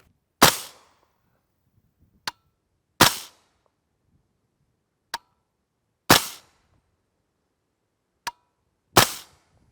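A suppressed 300 Blackout PSA-build rifle with a 1-in-8 twist fires Winchester 200gr Super Suppressed OTM rounds: four evenly spaced sharp reports about three seconds apart, each followed a beat later by a fainter crack, with quiet between.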